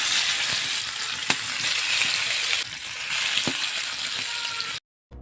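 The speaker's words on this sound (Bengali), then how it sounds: "চুলার আঁচটা মিডিয়াম আঁচে রেখে মাছগুলো ভেজে নিতে হবে" Silver carp pieces fry in hot soybean oil on a stove at medium heat, a loud, close, continuous sizzle with a few sharp spits and pops before it cuts off abruptly.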